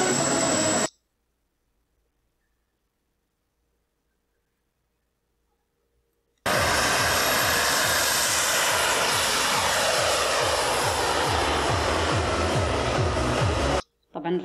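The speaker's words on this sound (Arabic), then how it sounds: "راح مشي الفيديو بس عشان تسمعوا صوت الطائرات" Model airplanes fly with a loud, sustained engine roar that bursts in after several seconds of silence and holds steady until the end.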